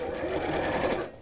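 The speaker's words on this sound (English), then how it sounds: "we'll just sew across there, just within the seam allowance, so quite close to the edge" A sewing machine stitches across fabric close to the edge, making a fast, steady, close mechanical chatter that runs for about a second before stopping.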